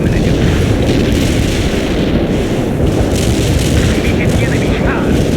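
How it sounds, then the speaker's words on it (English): Incoming artillery fire in a war video game, with continuous heavy booming explosions and rumble, loud and dense, under a voice giving radio-style orders. "Incoming fire, Romano. Change your position."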